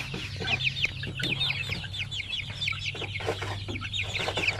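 Oriental breed chickens keep up a busy run of overlapping clucks and short calls, close by over a low steady hum.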